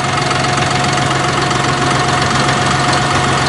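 A John Deere 5075E tractor's diesel engine runs steadily at wide-open throttle, a loud, close, continuous mechanical drone with knocking texture and no speech.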